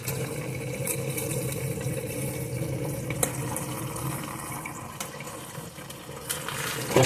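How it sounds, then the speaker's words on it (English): Tap water runs steadily while pumpkin leaves are rinsed at a sink, a continuous low wash with occasional clinks and splashes, fairly quiet and with no talking. "I'm just going to wash the pumpkin leaves that I just got."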